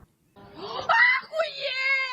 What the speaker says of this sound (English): she's screaming, this is the war